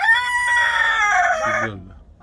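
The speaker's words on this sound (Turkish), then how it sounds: "Horoz." A single loud, close crow from a Sussex rooster, drawn out and ending in a falling tail before quiet.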